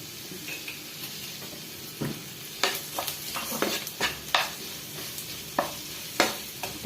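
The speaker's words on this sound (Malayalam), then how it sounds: "ഇരിക്കുന്ന ഉള്ളിയും കൂടെ നന്നായിട്ട് ഒന്ന് വഴറ്റിയെടുക്കാം" Onions sautéing in oil in a pan for prawn piralan, a steady sizzle broken by repeated scraping and stirring strokes from a spoon against the pan, close and clear, with no talking.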